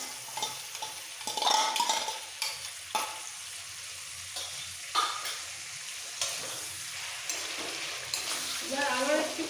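Whisked sour yogurt being stirred into a spiced white potato curry (alur dom) in a pan, giving a soft ongoing sizzle with irregular scraping stir strokes and occasional clinks of utensil against the pan.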